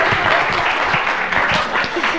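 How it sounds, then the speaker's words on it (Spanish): Steady applause from a conference session audience, moderately loud and continuous throughout, with faint voices mixed in. "Otro aplauso para Anshi"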